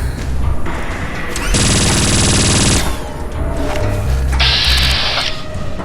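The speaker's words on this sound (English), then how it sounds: "Why is there a sentry bot trying to blow me up?" In Fallout New Vegas, a sentry bot fires a missile launcher amid gunfire. Loud harsh bursts of rapid rattling fire are broken by heavy blasts and crashes, dense and close throughout.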